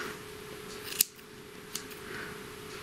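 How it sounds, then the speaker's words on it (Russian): Small scissors snip a Pomeranian's claws during grooming: one sharp, crisp click, then a fainter second snip, close up in a quiet room with no talking. "Нашли на Алиэкспресс, есть неплохие ножницы"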